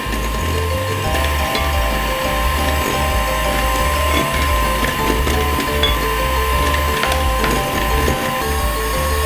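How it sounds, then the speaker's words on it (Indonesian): An electric mixer whirring steadily at medium speed as sugar is beaten in for fluffy pancake batter, loud and continuous with a rattling mechanical texture and a pulsing low drone. "Saya mixer dengan kecepatan sedang."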